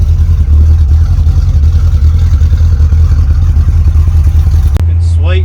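A Holden HQ's engine runs steadily while the car is driven, a loud, constant low rumble throughout with a person talking over it, cutting out abruptly near the end.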